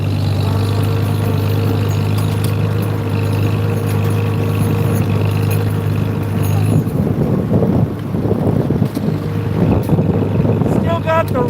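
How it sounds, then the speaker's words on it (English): A hay rake tractor engine runs steadily up close with a low droning hum, joined by louder rumbling and rattling in the second half. "I use that as my main rake tractor for, you know, when I do hay."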